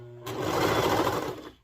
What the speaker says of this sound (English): I'm going to just put it in here and sew around